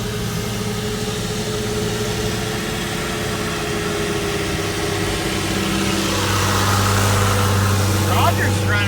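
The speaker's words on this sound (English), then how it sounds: "I still got that injector clicking on that thing." A truck engine idles steadily with a faint repetitive fuel injector click, holding a constant low hum before rising slightly near the end, with voices heard over it.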